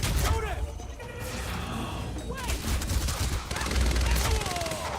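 Gunfire in the video game Quantum Break, with rapid bursts of shots and impacts mixed with clattering, continuous and dense over game noise, while voices talk over the action.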